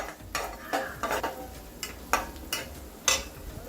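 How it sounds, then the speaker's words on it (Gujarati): Garlic sautéing in oil over a low flame for a spicy khichu, a soft steady sizzle broken by several sharp scraping strokes of a spoon against the pan, close and clear. "લસણને તમે આ રીતે સાતરી લેશો ને મિત્રો, તો તેલમાં એનો બધો એનો અર્ક આવી જશે"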